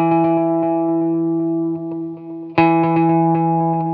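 Clean electric guitar from a Logic Pro preset plays a deep house riff of repeated picked notes with echo trailing each one, steady and close, briefly dipping before a strong restruck chord.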